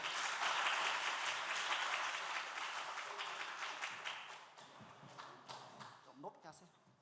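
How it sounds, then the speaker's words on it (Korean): Church congregation applause welcoming a speaker at a Friday prayer meeting, a dense round of clapping that starts full and gradually thins into scattered claps and faint voices toward the end. "박수로 환영하겠습니다."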